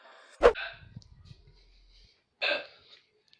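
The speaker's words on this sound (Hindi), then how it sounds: "भैया आपको इतनी हिचकी आ रही है?" A man hiccups twice, a sharp close hiccup followed after a pause by a second, with soft breathing and faint rustling between them.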